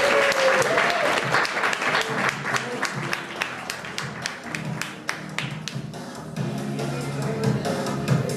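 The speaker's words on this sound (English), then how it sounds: "join me in a round of applause for all these amazing human beings" An audience bursts into sustained applause, dense clapping that continues for several seconds with some voices mixed in.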